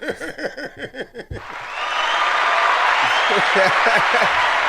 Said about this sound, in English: give the man a round of applause on that one